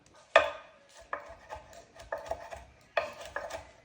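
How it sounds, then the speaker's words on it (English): A knife chops bacon into thin strips on a board, with about eight distinct close thuds in an uneven rhythm and no talking. "Get our bacon and chop it up."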